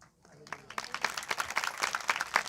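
An audience claps during a Hindi sermon, scattered claps building into a brisk, moderately loud round of applause while a voice carries on underneath.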